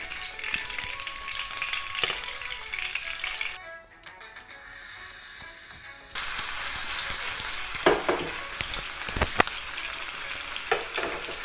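Cauliflower florets hit hot oil for an aloo gobhi sabzi, setting off a loud, steady sizzle near at hand. It dips quieter for a couple of seconds, then surges back full, with a few sharp spatters and stirring knocks.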